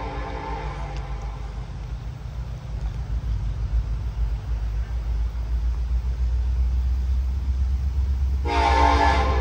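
Westbound train rolling through Ironton, Ohio, a loud continuous rumble of wagons passing close by, with a brief sharp horn blast near the end.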